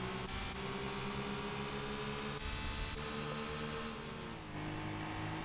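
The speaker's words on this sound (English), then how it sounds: "they sound exactly the same creates some really weird audio and a distortion" A buzzy, steady car engine drone in Gran Turismo 4, two identical engine sounds overlapping into harsh, distorted overtones, holds a constant pitch, then dips slightly lower toward the end.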